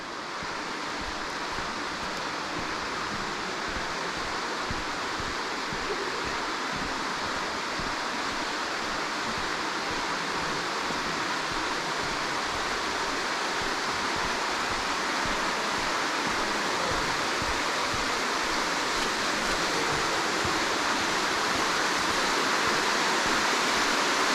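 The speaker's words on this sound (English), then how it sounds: "So we'll try to get through this waterfall here." A sandstone waterfall on a hiking trail at Turkey Run roars steadily and close up, a continuous broadband rush of water that stays even and loud throughout.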